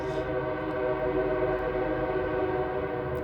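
A passing train sounds its horn in a long, loud, steady chord over the low rumble and rattle of the cars, continuing without a break.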